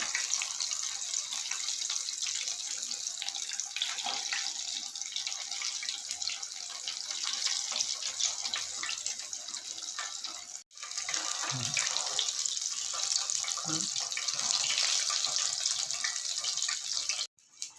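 Chicken frying in oil on a medium flame, a steady loud sizzling hiss that fills the whole stretch, with a few brief clatters and a short break.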